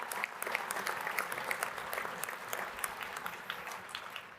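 Applause at the opening general session of the Oxford House World Convention 2021 is heard as distinct, fairly faint claps in a steady, slightly uneven rhythm that continues throughout.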